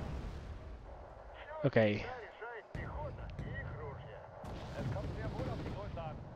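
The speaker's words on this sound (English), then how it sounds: "Mortar strikes." Mortar strikes in the video game Wargame: Airland Battle land as a string of booming impacts and crackling blasts, one sharp burst standing out, mixed with a voice talking over the action.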